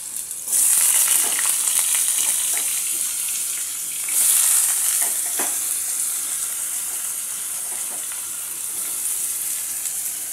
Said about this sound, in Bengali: তো এখানে আগে আলুটা ভাজা করে নিই।